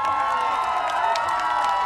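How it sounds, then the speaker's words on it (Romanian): Large outdoor crowd at a tennis exhibition in a town square cheering and applauding, a steady dense roar of voices and claps with no break. "Aplauze pentru Yannick Noah!"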